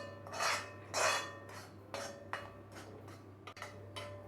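A spoon scrapes and stirs coriander and turmeric powder in an iron pan on low flame, giving several short rasping strokes about half a second apart over a faint steady hum, close and quiet.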